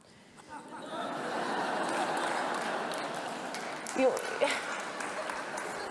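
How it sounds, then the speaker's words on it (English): An audience breaks into applause after a remark in a speech, a dense wash of clapping that swells within the first second, holds steady, and carries a few chuckles and murmurs near the end. "I didn't expect to get claps for that"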